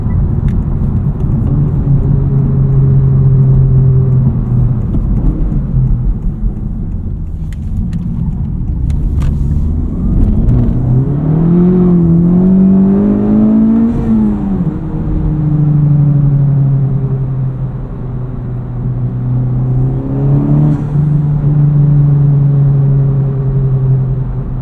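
A 2023 Honda Civic Type R FL5 fitted with a Cobb carbon fiber intake drives along, its engine a steady close rumble inside the cabin that rises in pitch through acceleration and settles between pulls.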